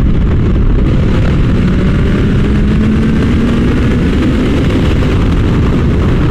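A flashed Kawasaki H2 motorcycle engine revving toward 8,000 rpm, a loud, close, sustained roar with a slowly rising pitch and heavy rumble.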